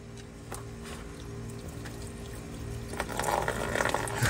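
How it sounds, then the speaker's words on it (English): Water pouring and trickling from the flooded engine of a Cadillac DTS convertible into a drain pan, a steady liquid stream that grows louder and splashier toward the end, with no talking. "We'll see just how much water is in this engine."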